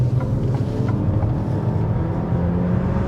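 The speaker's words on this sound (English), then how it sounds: "I'm just gonna floor it right now" A 2024 Dodge Hornet small SUV engine at full throttle, a steady, loud low drone with continuous rumble and some wind buffeting, no talking.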